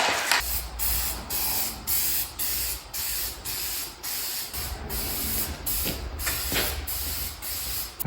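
Aerosol primer sprayed onto a freshly welded car winch mount in repeated short hissing bursts, close and steady, with brief pauses between passes and no talking.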